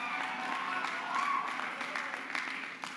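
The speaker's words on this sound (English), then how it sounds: "worthy of applause" An outdoor crowd at a March for Life rally applauds, steady clapping and cheering that holds at a moderate level before easing toward the end, with a faint voice under it.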